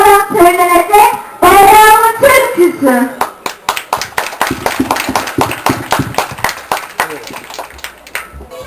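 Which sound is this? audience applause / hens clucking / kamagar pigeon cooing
audience applause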